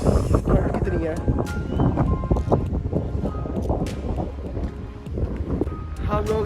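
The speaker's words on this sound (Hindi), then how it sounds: "ये झंडा देख लो कितनी तेज हवा चल रही है।" Strong wind roars across the open mountain top at Green Top, Kalam, in Swat, with a flag whipping in the gusts. The sound is loud, constant buffeting close to the microphone, rough and turbulent throughout.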